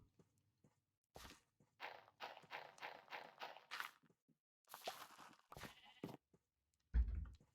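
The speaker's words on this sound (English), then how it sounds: "Are you another sheep?" Sheep in the video game Minecraft, two short bursts of quick repeated bleats, fairly faint, separated by a pause, with a soft thud at the end.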